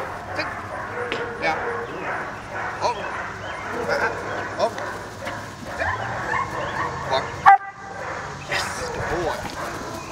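A tough, sweet-natured working dog gives short bow-wow barks, yips and whimpers at moderate distance, scattered through a busy stretch where people talk over it.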